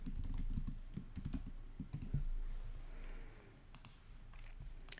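Typing on a computer keyboard sends quick, light key clicks in irregular bursts, close and fairly quiet, with pauses between runs of keystrokes.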